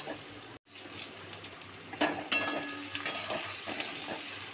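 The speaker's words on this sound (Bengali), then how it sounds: "ভালো করে পেঁয়াজটা লাল লাল করে ভেজে নেব" Onions fry in a pan with a little sugar for chicken ghugni, a quiet continuous sizzle with stirring scrapes and a few sharper clinks, briefly cut off near the start.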